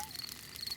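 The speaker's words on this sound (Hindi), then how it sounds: "ये कीड़ों की चींची आवाज है।" Cartoon insects, crickets, chirp in a steady faint high trill through a quiet outdoor picnic scene, with a thin tonal whistle running through it and no talk.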